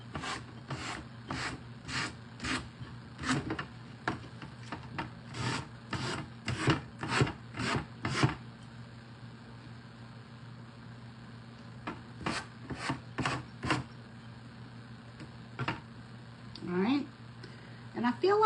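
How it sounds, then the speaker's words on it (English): Sanding a mixed media artwork by hand, with repeated short rasping strokes in quick bursts, then a pause and a few more scrubbing passes, steady and close against a faint background hum. "And then we're going to sand this off."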